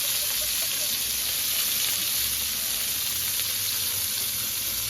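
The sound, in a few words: onions frying in reheated oil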